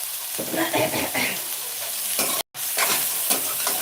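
Washed tamarind goes into a hot frying pan for a Kannada-style ridge gourd side dish and gravy, with oil sizzling loudly and a spoon stirring and scraping close up, interrupted by a brief dropout.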